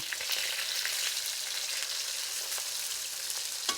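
Shrimp frying in a pan, a steady bright sizzle with faint crackles that holds evenly throughout, close and with no talking.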